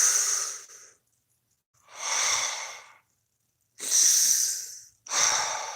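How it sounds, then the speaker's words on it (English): Slow, deep breaths are drawn in and let out during a Beltane prayer and blessing, four breathy rushes of air separated by short silences, close and fairly loud. "Take a nice deep breath."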